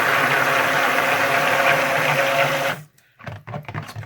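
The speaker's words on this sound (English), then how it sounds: "Trap that under my mixer." A mixer whirring steadily and loudly through yellow-coloured citrus basil soap batter for nearly three seconds, then cutting out abruptly, leaving faint clicks and handling noises.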